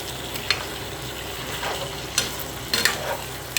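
Sausage being stirred in a frying pan, a soft steady sizzle with several sharp scraping clicks of a utensil against the pan, close up.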